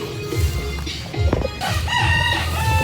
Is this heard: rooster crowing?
yes